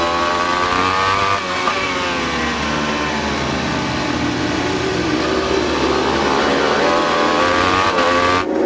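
Onboard sound of an AMA Superbike racing at Brainerd, with a loud high-revving engine that climbs through the gears and briefly drops off with each shift, close-miked and constant.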